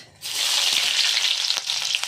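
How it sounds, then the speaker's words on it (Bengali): Chopped onions drop into hot oil tempered with kalonji (nigella seeds) while making Bengali begun paturi, setting off a sudden loud sizzle that settles into a steady, close frying hiss with small pops. "এবার যাবে কালো জিরা ফোড়নে, তারপরে দিয়ে দিলাম কটা পেঁয়াজ"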